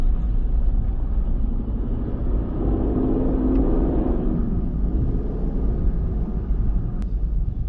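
An Aston Martin Vantage F1 Edition pulls away on the road near Châtelaillon, with a steady, loud engine rumble that swells as it accelerates, no talk over it.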